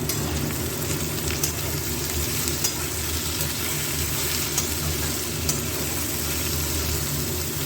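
Cauliflower curry in a pan is stirred over steady loud frying and sizzling, with soft scraping taps of the spoon at irregular intervals and no talking.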